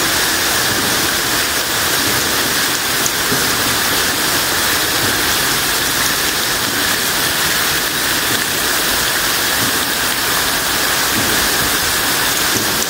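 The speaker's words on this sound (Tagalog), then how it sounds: "Malakas-lakas po ang agos ngayon pagpasok namin dito sa Underground River kasi ang lakas ng ulan" Strong water current surging through an underground river cave after heavy rain at high tide, a loud, constant broadband rushing roar with no breaks.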